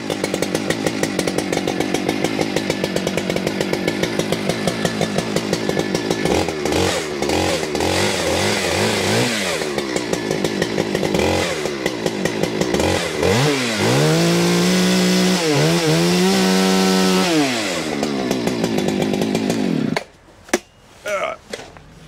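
A chainsaw runs while warming up, with a loud, close, continuous engine buzz whose pitch rises and falls as the throttle is worked, then it drops off abruptly near the end.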